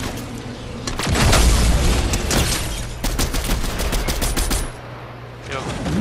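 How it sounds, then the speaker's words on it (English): Cybertron cannon firing in Fortnite, a rapid loud barrage of booming shots and blasts in dense bursts lasting several seconds, with a brief lull before more firing resumes. "Cybertron cannon knocked his armor off"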